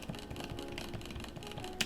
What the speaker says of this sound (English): That's the sound of the ratchet grabbing the back of the cylinder and just caressing it.